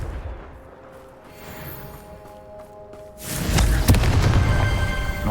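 Confringo spell explosion in the Hogwarts Legacy video game, a loud blast erupting partway through after a quieter stretch, then a sustained roar with crackling debris.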